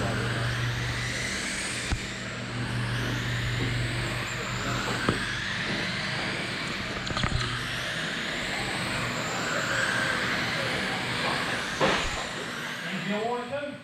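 21.5 RC dirt oval late model cars run laps on the Lil Indy track, a high electric whine rising and falling as they circle, with someone talking over the buzzing throughout.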